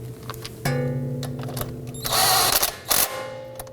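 On a Toyota Camry, a brake hose bolt is started by hand and snugged down, with short close clicks and metallic ratcheting over a faint background hum and no talking.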